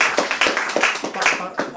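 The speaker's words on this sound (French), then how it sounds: "on applaudit Catherine très fort" An audience at a French live show applauds for a woman called up as an assistant, claps coming in quick irregular bursts over a steady crowd murmur, with a voice talking over them.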